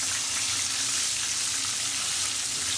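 Country fried steak sizzles steadily in a pan just after being flipped, a dense, even crackle of hot oil that holds close and loud throughout with no voices.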